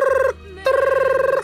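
An electronic telephone ring trills in two bursts with a brief gap between them, loud and close, as an incoming call for a radio ratings survey.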